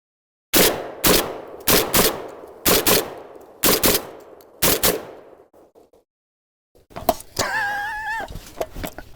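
A Tokarev TBP12 shotgun fitted with a cylinder choke firing cheap Federal ammunition: five loud, sharp blasts, about a second apart and each trailed by a short echo, followed after a pause by a different wavering, tonal noise.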